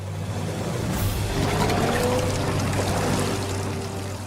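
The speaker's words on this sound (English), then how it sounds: "the water keeps pouring in" Water pours and trickles steadily into a flooded dig pit, a continuous splashing rush that stays even throughout.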